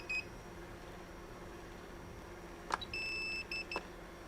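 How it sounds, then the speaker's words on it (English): FPV drone radio controller emitting short electronic beeps while being bound to a Shendrones Squirt, a brief chirp then a longer steady tone and a few quick beeps over a quiet room hum. "It starts to beep."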